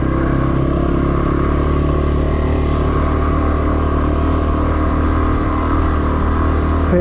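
A motorcycle engine rumbles steadily and loudly, a low continuous drone as it rides along a muddy road with little variation.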